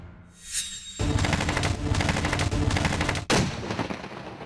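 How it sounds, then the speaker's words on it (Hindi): Heavy gunfire rings out during a militant encounter between security forces and militants in Kulgam, Kashmir, as a loud, sustained burst of rapid automatic shots with a sharp crack near the end, outdoors and without voices. "मिलिटेंटों और जवानों के बीच ताबड़तोड़ फायरिंग हो रही थी।"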